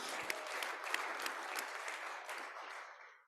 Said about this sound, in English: A round of applause for those Kiwanis that are having birthdays